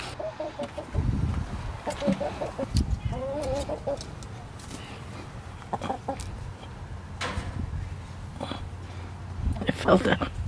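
Backyard chickens cluck softly in a garden, with short bursts scattered among rustling and background noise while a person talks nearby.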